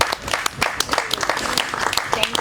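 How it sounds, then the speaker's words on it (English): An audience at an assembly candidates' forum claps for the candidates, scattered distinct hand claps rising and falling over a couple of seconds, with some voices mixed in. "Let's give a round of applause for our candidates."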